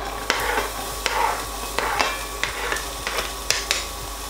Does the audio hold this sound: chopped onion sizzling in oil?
yes